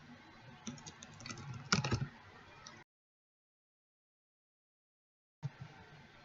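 Fingers tap on a computer keyboard in quick irregular bursts of clicks, close and quiet, broken by a few seconds of total silence before typing resumes.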